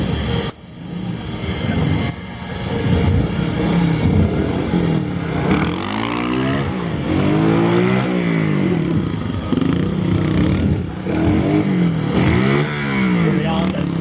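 Trial motorcycle at a truck show stunt performance, the engine revving up and down in repeated rising and falling swells, loud and close, with someone talking over it.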